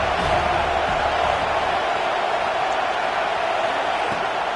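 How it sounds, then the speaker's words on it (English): A home crowd in a College Football video game makes a steady, dense wash of cheering and noise, constant in level throughout with no distinct peaks. "how nice is it to have the home crowd going absolutely bananas?"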